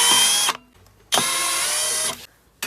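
A power screwdriver backs screws out of a broken air fryer being taken apart, with two loud, close whirring bursts of about half a second and one second, separated by a brief pause.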